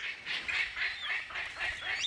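A palm cockatoo in Australian rainforest gives a series of harsh, honking calls, repeated roughly every quarter second, loud and close with no talking.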